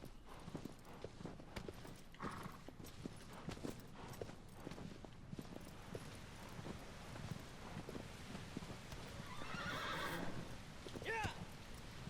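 Agro the horse in the video game Shadow of the Colossus, steady clip-clop hoofbeats on ground with wind, a whinny near the middle and a louder neigh toward the end, faint and distant-sounding.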